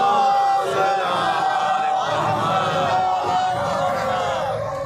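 A large crowd at a live 3 Shaban Jashn-e-Imam Husain gathering in Zaidpur chants the nara-e-salawat slogan together, loud raised voices sustained throughout with a rowdy, bleating quality.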